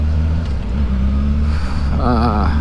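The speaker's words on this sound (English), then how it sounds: "I like the way this bike sounds" A 2007 Honda CBR 600 RR sport bike engine runs at a steady low idle nearby, then briefly wavers as the revs rise and fall near the end.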